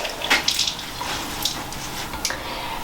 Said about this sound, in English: so you've given it a final rinse in cool water again